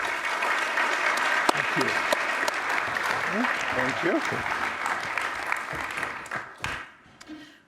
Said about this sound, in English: please, with applause, welcome Alfredo to the stage